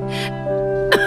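A man recovering from an illness gives a short cough or throat-clear, a brief burst near the end over a steady tonal background hum.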